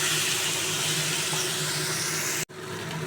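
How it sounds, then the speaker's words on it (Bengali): Salt, turmeric and spices frying in hot oil in a pan: a constant, close hiss that cuts off abruptly near the end before resuming. "লবণ, হলুদ, এবার আমি ভালো করে ভেজে নেব।"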